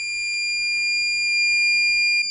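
A battery management system's shrill electronic beep drones on continuously, unbroken and steady in pitch and loudness, nothing else audible.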